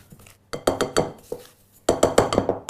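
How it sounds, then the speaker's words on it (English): Muffin batter being scraped around the sides of a mixing bowl in two bursts of quick, clinking scrapes with a short pause between, close and clear, no talking. "scrape down the sides of the bowl so you can combine everything"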